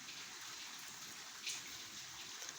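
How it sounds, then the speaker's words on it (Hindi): Steady rain falling during a heavy downpour, a continuous hiss of drops with a brief louder gush midway, no voices. "फिर तेज़ हो गई है"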